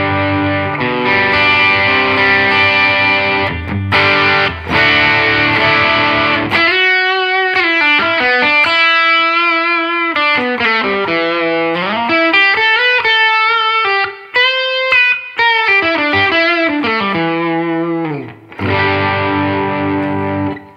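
Heavily distorted electric guitar through overdrive pedals, including a TS-9 Tube Screamer, plays chords and sustained melodic bends, loud and saturated, with brief pauses between phrases.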